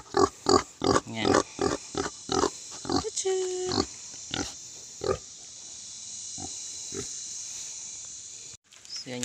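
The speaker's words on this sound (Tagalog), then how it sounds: "yung baboy na ito is maliit pa" A small piglet taken from a mountain area grunts in a quick series of short, close oinks, followed by a few squealing calls and then quieter, sparser grunts against a faint background.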